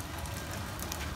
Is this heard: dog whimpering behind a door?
no